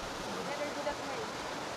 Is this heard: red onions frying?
no